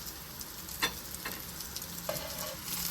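Masala for a baingan dish frying and being stirred in a pan, with a steady low sizzle and a few soft scraping strokes of a spoon.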